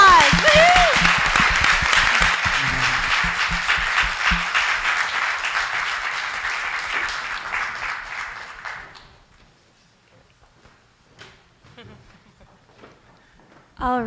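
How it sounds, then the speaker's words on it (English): A crowd at the 2024 3MT and MT180 competition final gives a big final round of applause, with a whoop early on. The loud clapping fades out after about nine seconds, leaving scattered handling sounds and quiet. "Yes, big applause."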